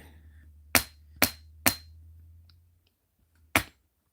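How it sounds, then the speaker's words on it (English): A nylon jaw hammer strikes wire earrings on a jeweler's bench block to work-harden them: three sharp, bright smacks in quick succession, then a pause and one more, close and loud over a faint low hum. "Get my nylon jaw hammer and give them some smacks to harden them a little bit."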